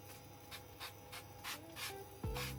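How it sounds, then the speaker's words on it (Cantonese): An oil spray bottle sends a quick series of short, evenly spaced hissing bursts into a non-stick pan over medium heat, followed by a brief rising tone at the end. "我就中意用個噴壺嘅"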